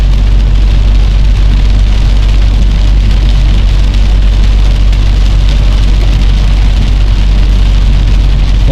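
Heavy rain pours steadily in Fang, a loud, dense, unbroken roar of water close by with a deep low rumble underneath and no talking.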